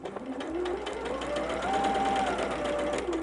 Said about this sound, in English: we're going to sew all the way